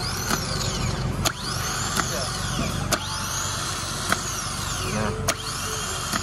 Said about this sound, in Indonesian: Saat bagian yang dari kunci kontak ini dihubungkan ke plus, otomatis starter akan berputar dan pinion akan menarik ke depan.